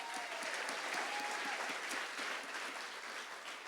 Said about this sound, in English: give all the nominees a huge round of applause